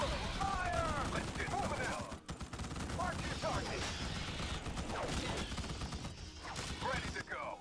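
Rapid, overlapping gunfire crackles through a Starship Troopers: Terran Command battle in dense, sustained bursts, mixed with mechanical clatter and brief radio-style unit voices.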